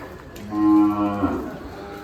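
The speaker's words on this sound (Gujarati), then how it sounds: "બધી ગાયો ભાગી રહી છે" A cow at the ISKCON temple cow shelter in Kathwada lets out one loud, close, drawn-out moo lasting under a second, which ends with a short grunt before quiet shelter ambience returns.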